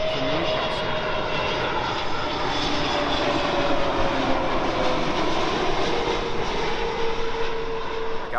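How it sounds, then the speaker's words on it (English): A British Airways Airbus A320neo jet airliner roars steadily at Heathrow, a loud, continuous engine rumble with a faint whine held through the whole clip and no talking. "BA's A320 Neo,"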